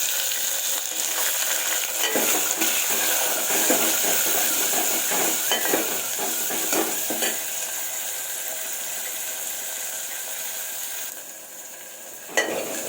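Tomatoes frying in hot oil with curry leaves, onion, fenugreek and cumin seeds, a continuous close sizzle with occasional stirring scrapes, settling quieter near the end.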